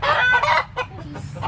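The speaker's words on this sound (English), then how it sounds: "I'm done with you, chicken." A backyard chicken gives a few short, close clucks in quick bursts, with a brief gap in between.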